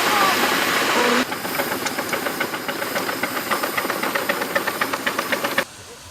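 A miniature 4-inch Foster steam engine at a steam rally lets out a loud steam hiss, then chuffs in a fast even rhythm before the sound cuts off sharply.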